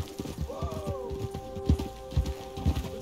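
A trotting horse in Red Dead Redemption 2 beats out an uneven clip-clop of close hooves, with a short high whinny-like tone near the start.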